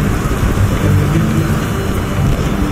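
Heavy, driving rain pours continuously with a deep rumble of thunder underneath, a dense, loud, unbroken roar of storm noise with no voices.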